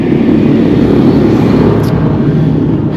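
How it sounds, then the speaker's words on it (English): A tractor drives along a farm field in Holesworthy in February, its loud, steady engine rumble passing close by for several seconds with no one talking. "I was a bit distracted then with this tractor coming down"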